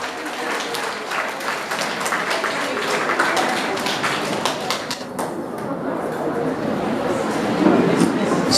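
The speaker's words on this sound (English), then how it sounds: "please give her a loud round of applause" Audience applause at an annual award ceremony, sustained dense clapping filling the whole stretch at steady moderate loudness, with some crowd chatter mixed in.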